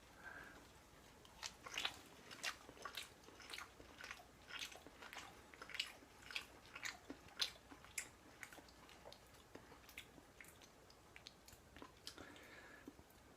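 Someone eats homemade Korean BBQ beef bulgogi, chewing close and quietly with soft, wet, irregular bites and crunches spaced through a calm, otherwise still room.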